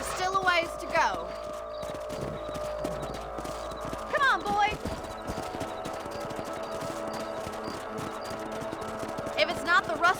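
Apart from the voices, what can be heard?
horses galloping in video game Red Dead Redemption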